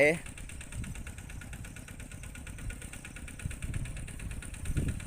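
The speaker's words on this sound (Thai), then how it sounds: "ใส่รถไถหน่อยไถ" A tractor engine running in a rice field in Kalasin province, Thailand, a steady near idling rumble with slight rises in revs, while someone talks over it throughout.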